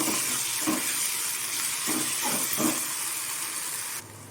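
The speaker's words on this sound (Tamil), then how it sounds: "இதில் இஞ்சி பூண்டு பேஸ்ட் சேர்த்து ஒரு ரெண்டு நிமிஷம் நல்லா வதங்கட்டும்" Ginger garlic paste sautés with onions in a pan for prawn gravy, a steady close hiss and sizzle broken by several short stirring scrapes, with no talking, before it drops quieter at the end.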